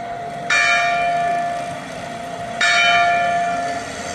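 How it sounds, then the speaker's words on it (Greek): Church bell ringing, two loud resonant strikes a couple of seconds apart, each with a long ringing decay and a sustained hum beneath. "η καμπάνα της εκκλησιάς βαράει"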